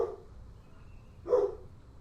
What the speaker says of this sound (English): Not letting our thoughts drift away to what my dog is barking at.